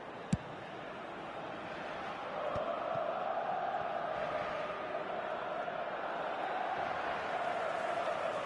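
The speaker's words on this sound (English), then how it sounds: "The crowd are calling for this to be put to bed." A stadium crowd in the eFootball video game roars and chants steadily, a broad continuous swell that rises after a couple of seconds and holds at a moderate level with no talk over it.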